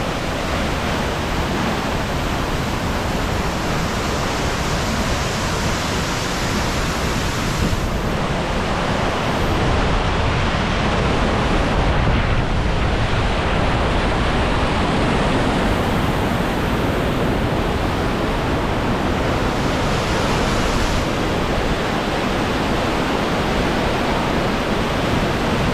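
Spray from Queen Mary Falls pours down as a loud, steady roar of falling water, close by and constant, with a dense broadband hiss and no voices.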